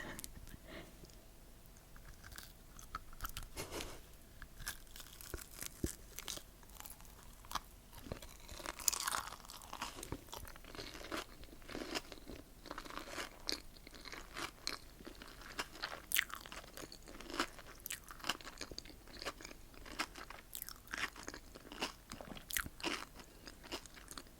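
Crunchy crystal candies bitten and chewed close to the mic, a long run of sharp, brittle crunches in an irregular rhythm with no talking.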